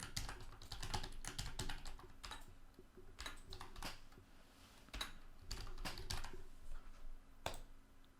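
Computer keyboard typed on in quick irregular bursts of clicky keystrokes with short pauses, close and clear with no talking.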